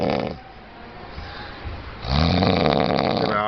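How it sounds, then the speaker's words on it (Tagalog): A man snoring loudly, with deep rasping breaths repeating steadily, close by; a quieter stretch precedes the louder snores. "Pakinggan nyo po ang kanyang hilik."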